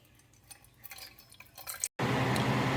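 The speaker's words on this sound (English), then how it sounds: "right now, I'm going to pour the water into." Water poured into a container to dissolve lye for olive oil and raw milk soap: a few light drips, then a steady, close rushing pour that fills the last second without a break.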